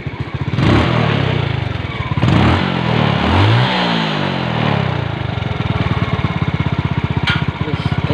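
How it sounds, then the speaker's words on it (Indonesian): Yamaha Lagenda Z110 motorcycle engine running close by, blipped through a few loud revs that rise and fall, then settling into a steady, throbbing idle. "sekarang kita ada satu jentera Legenda, Yamaha Legenda"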